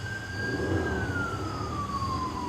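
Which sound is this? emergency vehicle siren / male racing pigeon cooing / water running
emergency vehicle siren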